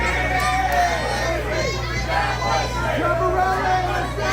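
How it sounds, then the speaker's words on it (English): An indoor wrestling event crowd reacting unhappily after a kick-out, a steady murmur of chatter and voices from the audience, fairly close and continuous throughout. "Crowd not happy here"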